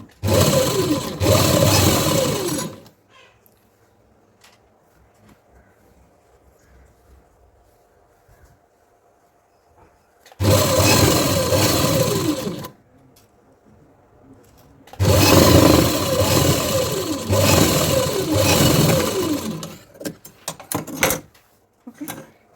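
A sewing machine stitches the seam of a saree blouse in three loud, sustained runs of fast, even whirring, close by, with quiet pauses between them and a few brief, choppy bursts at the end.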